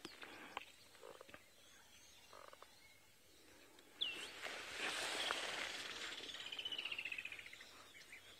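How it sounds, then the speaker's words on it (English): A woodland kingfisher calls in the bush on safari, a clear descending trill of rapid repeated notes rising out of quiet ambient rustle, moderately distant and alone without talk. "You can hear the woodland kingfisher is also here to see this frog"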